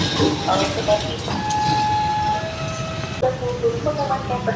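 A train rolls past near a station in Yogyakarta, a close rumble with a steady tonal horn and bell-like tones held across the middle, under a busy outdoor background.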